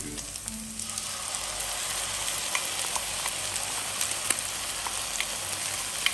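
Ingredients for a simple noodle dish frying in oil with salt and being stirred in a pan: a steady, close sizzle with occasional light scraping and clinks from the stirring, no voices.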